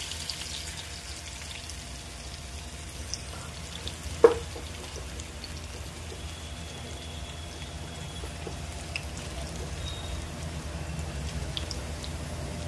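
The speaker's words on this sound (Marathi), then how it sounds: "आता आपण ही जिरं मोहरी कडलेली आहे, त्यात आपण लसूण टाकूया।" Garlic sizzles in hot oil already crackling with cumin and mustard seeds for a Maharashtrian-style eggplant masala, a soft steady hiss close by with one sharp pop partway through and no talk.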